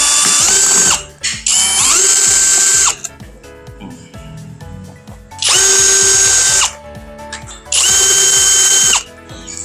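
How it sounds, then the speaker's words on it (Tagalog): Screws backed out of an electric mosquito killer with a small electric screwdriver, loud whirring bursts at close range alternating with quieter ratcheting clicks, four separate runs with short pauses between them. "Yan, tatanggalin natin ang screw."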